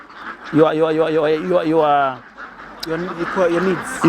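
Free-range ducks on a large duck farm quack in two close, loud bursts of rapid nasal calls, with a short pause between them.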